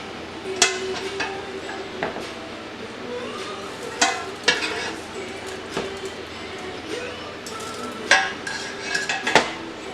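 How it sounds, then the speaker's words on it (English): Linguine is tossed into a thick, creamy Cajun chicken alfredo sauce in a pan, with wet slapping, scraping utensil clinks and bursts of clatter against the cookware. "And then you're just going to add your pasta."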